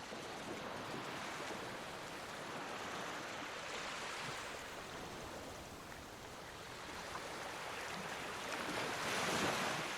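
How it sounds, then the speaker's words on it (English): Ocean waves break on the shore in a continuous, full roar of surf that stays loud throughout and swells slightly toward the end. "The sound of the ocean fills my ears. The waves sound like fire, wind and water all at once."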